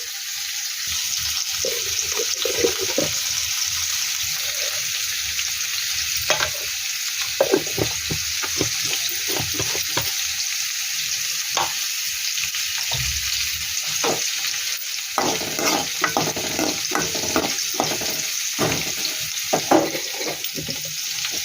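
Chana dal and mustard seeds frying in hot oil in a home kitchen, a steady bright sizzle throughout, with occasional pops and clinks of a spoon stirring the pan close by.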